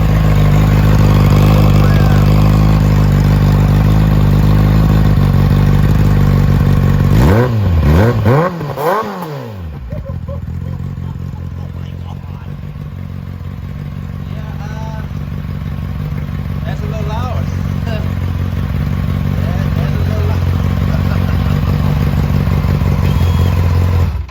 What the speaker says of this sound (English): let's give you guys a little rev